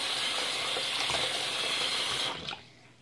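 Tap water runs steadily into a sink in a home while someone rinses oil-based makeup from burning eyes, a broad continuous hiss that cuts off abruptly near the end, leaving a faint trickle.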